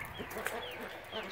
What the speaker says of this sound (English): There's a baby chicken.